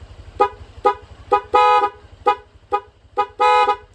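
A vehicle horn driven by a music remote blares in a rapid rhythmic pattern of about eight short and long honks, loud and close, over a low pulsing electronic hum.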